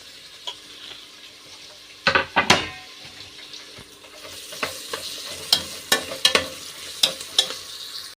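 Ginger, garlic and green chilli fry in a pan, with a steady close sizzle and a string of sharp scraping stirs that come in bursts, loudest partway through.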